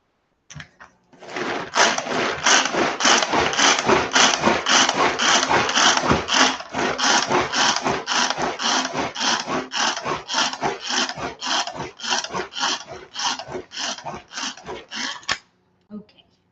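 Ingredients being mixed in a bowl, a rapid run of rhythmic scraping strokes, close and fairly loud, steady for about fifteen seconds before stopping, with no talk over it.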